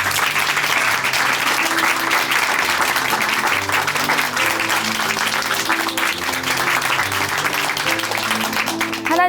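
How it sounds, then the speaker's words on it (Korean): Church congregation at Chuncheon Hanmaum Church applauds a woman's testimony with sustained, dense clapping, loud and steady throughout, with soft organ or keyboard chords playing underneath. "다시 한번 자매님께 큰 박수 보내드릴게요."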